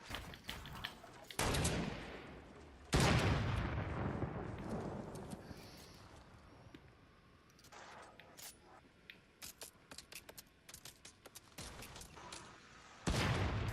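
Bursts of video game gunfire during a squad battle-royale match, loud crackling volleys separated by quieter stretches, with scattered lighter shots toward the end and a final heavy burst.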